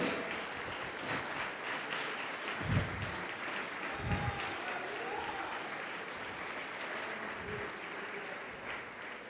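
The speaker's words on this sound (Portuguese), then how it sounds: "pode aplaudir, glorificar a Deus" A church congregation applauds to glorify God. A broad, steady wash of many hands clapping sounds somewhat distant, with a few low thumps mixed in.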